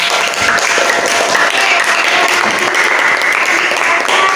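A classroom of students breaks into loud, sustained applause, dense clapping that holds steady throughout with some voices mixed in.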